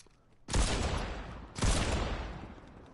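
Two loud, booming gunshots from a mammoth weapon in a video game, about a second apart, each followed by a long rumbling decay, with no talking.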